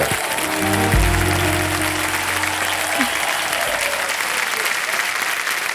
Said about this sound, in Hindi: जोरदार तालियां हो जाए पुलकित के लिए